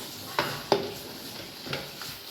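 Mutton frying in a pan while a spoon stirs it, with a soft steady sizzle and a few sharp scraping clinks of the utensil against the metal, fairly quiet and close.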